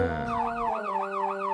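A cartoon ambulance siren, a loud, clear wailing tone that sweeps up and down in a regular rising and falling pattern, heard on its own with no talking.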